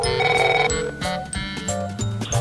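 A telephone rings on a Korean variety show as a call is connected, its loud electronic ring tone playing in repeated tonal bursts with a musical bed underneath and no talk.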